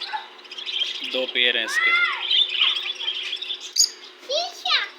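Australian parrots in an aviary give squawks, chirps and whistling calls throughout, close and fairly loud, while someone talks over them.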